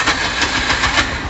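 A Bajaj motorcycle engine is started again and runs with a rapid, rhythmic chugging pulse, close and fairly loud, with no one speaking.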